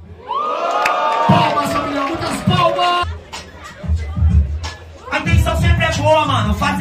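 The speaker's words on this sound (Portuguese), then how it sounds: "Palmas, família, muitas palmas!" Crowd at a rap battle erupting in cheers, shouts and whoops, with loud, rising excited voices and clapping in waves, near and energetic throughout.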